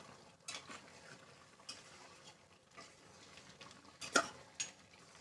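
Mutton curry with coriander powder being stirred in a pot, with a handful of soft scrapes and taps spread across a few quiet seconds, close and faint.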